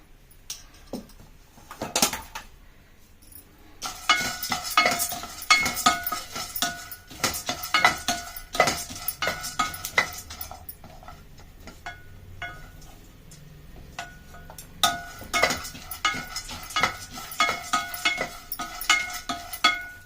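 Pumpkin, sunflower and melon seeds dry-roasting in a pan, stirred with a spoon that scrapes and clinks against the metal in quick, uneven bursts, close by, with a few quieter pauses.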